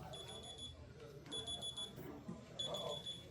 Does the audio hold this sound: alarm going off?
yes